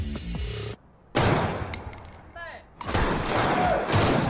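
Gunfire during a shooting practice session in a film, with loud bursts of shots and impacts in two dense stretches separated by a short lull, with crackling debris and a faint ringing tone mixed in.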